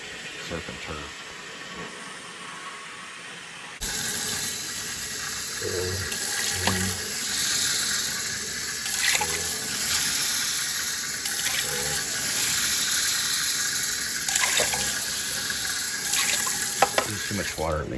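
Tap water gushing steadily into a pot for ramen noodles, starting abruptly and running continuously at close range, with faint kitchen clatter around it.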